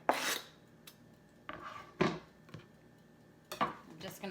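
Cabbage, apple and green onion are tossed together in a bowl, giving a few scattered bursts of clatter and rustling scrapes from utensils against the dish, close by, with quiet gaps between the bursts.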